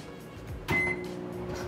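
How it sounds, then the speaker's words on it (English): A microwave oven cooking an artichoke hums steadily at low volume, with a brief click and a short bright beep partway through. "you're going to put it in the microwave"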